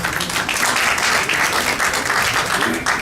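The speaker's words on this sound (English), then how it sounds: "one more hearty round of applause for our candidates" Sustained audience applause closing a Mount Vernon city council candidate debate, steady and dense crowd clapping that carries evenly for the whole stretch with a faint voice underneath.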